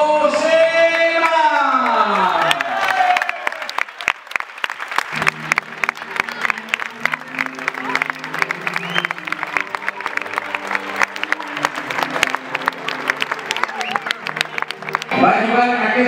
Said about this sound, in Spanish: recibamos con un aplauso a uno de los nuevos fichajes, José Ma